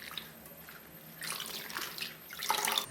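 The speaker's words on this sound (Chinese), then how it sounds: "放入水中，清水洗一下。" Torn cabbage leaves are rinsed in a basin of water, with soft sloshing, splashing and dripping that swells in two brief bursts. Quiet and close, with no talking.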